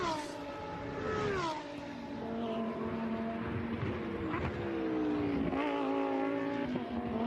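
A Lamborghini Super Trofeo race car runs at Imola, its engine note loud and sustained as the pitch rises and falls through gear changes, with the crowd and track ambience behind it.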